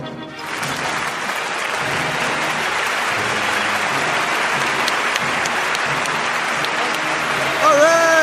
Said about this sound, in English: Clap, moron, clap